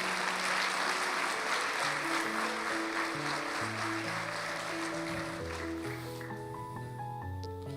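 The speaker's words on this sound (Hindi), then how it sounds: "जोरदार तालियां बजा दें" A church congregation at a Resurrection Day sermon claps loudly over sustained keyboard chords, the applause fading away after a few seconds while the music carries on.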